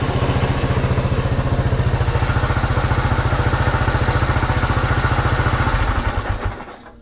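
A 1974 Honda XL250 motorcycle engine idles in a steady, loud, even thumping rhythm close by, then stumbles and dies out near the end, with no talking.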